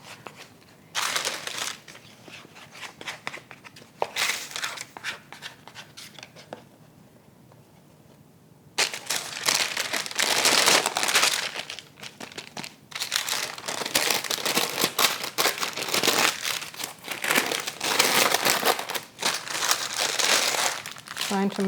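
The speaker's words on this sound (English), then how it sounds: "And I put it on my parchment paper." Parchment paper crinkles and rustles close up as laminated Franzbrötchen pastry dough is folded into a package, with bursts of crackling handling noise and a quieter pause in between. A voice is faintly present at times.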